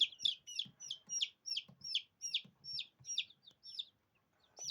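Chickens cluck and peep in rapid repeated bursts as chicks are handled for sexing, with about a dozen close, bright calls in a steady rhythm over faint handling noise.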